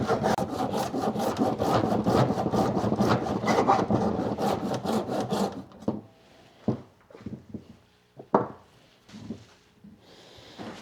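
Hand saw cutting through a dried chaga mushroom into slabs: about six seconds of fast, rasping back-and-forth strokes up close, then scattered scrapes and knocks as the cutting stops.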